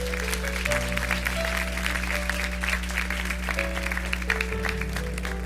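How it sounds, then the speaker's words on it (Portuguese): A church congregation claps together in sustained, steady applause, with a held organ or keyboard chord ringing underneath for the whole stretch. "esposas, pode aplaudir o Senhor"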